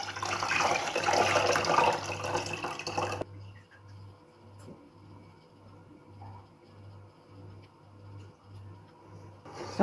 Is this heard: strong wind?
no